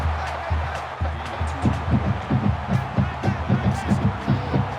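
A stadium crowd in NCAA Football 20 at an Auburn at Florida game roars and cheers steadily, with rhythmic swells, under an announcer's running commentary.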